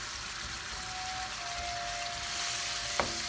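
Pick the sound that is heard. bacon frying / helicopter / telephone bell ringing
bacon frying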